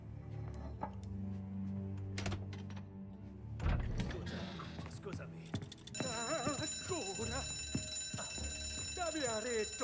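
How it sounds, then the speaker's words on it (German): An alarm bell rings continuously in the Mafia Definitive Edition video game, starting midway and ringing loud and sustained over background noise and clatter. "Alarm!"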